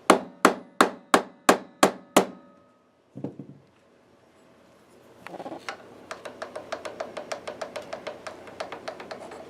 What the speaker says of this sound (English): just smack it with a hammer and it should fix it